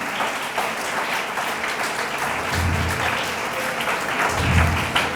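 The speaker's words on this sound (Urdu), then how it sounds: "آئیں یسو کے لیے زوردار تالیاں بجائیں." Church congregation applauding loudly and continuously, a dense wash of many hands clapping that swells toward the end, with no talk over it.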